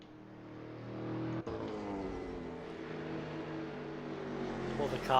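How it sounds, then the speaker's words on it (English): Racing cars in the Assetto Corsa video game hold a steady, continuous engine drone with a slight rise in pitch, heard close and fairly loud throughout. "All the cars now pretty much just driving to the end of the race now"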